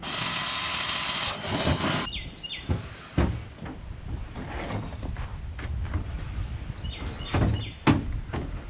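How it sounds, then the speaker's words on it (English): Power drill whining in short bursts while drilling holes in a metal ammo can, with a steady hum and several sharp clanks between runs; close and fairly loud. "Like that, and I'll drill the holes here and here."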